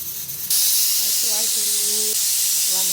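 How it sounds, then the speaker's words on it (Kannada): A pressure cooker whistles as it vents steam while egg biryani cooks, giving a loud, steady hissing blast that lasts most of the moment after a brief quieter start, with faint tonal whistle lines running under it. "1 ವಿಷಲ್ ಆಯಿತು."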